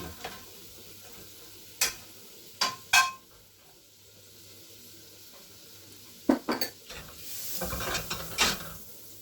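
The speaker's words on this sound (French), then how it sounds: "J'ai chauffé ma poêle. Je mets un peu de beurre." Butter melting in a heated frying pan, with a few sharp clinks of a utensil against the pan and a soft sizzle building toward the end.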